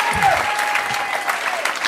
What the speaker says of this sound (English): Give Jim a round of applause